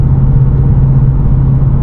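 A 2024 Ford Mustang GT picking up speed on cruise control: a loud, steady low engine drone with a constant deep hum and road rumble heard from inside the car, with no voices.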